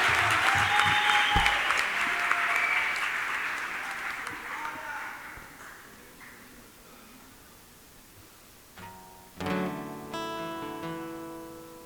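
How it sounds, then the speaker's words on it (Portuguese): Loud church congregation applause fills the room at first, a dense wash of clapping that gradually fades to a quieter hush before music and voices come in near the end. "Aplauda o Senhor o mais forte que você puder"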